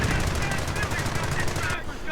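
Machine gun fire in a WWII strategy game, with a rapid, continuous rattle of closely spaced shots filling the clip, loud and near, ending abruptly just before the close.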